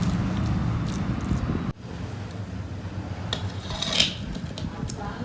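Carrot malai barfi pressed into a tray with a bowl, giving steady close scraping and clinking of metal utensils with a brief sharper knock near the end.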